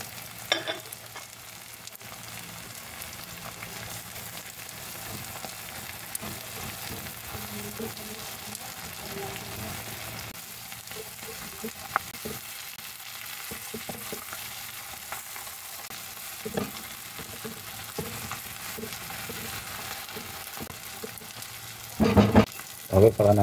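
Chopped garlic and onions frying in a pan, a steady soft sizzle running through with occasional stirring clatter and louder utensil knocks near the end, alongside intermittent talk.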